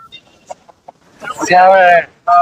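A few soft clicks, then a rooster at a poultry market gives a loud, close call with a wavering, harmonic tone, followed by a second short burst.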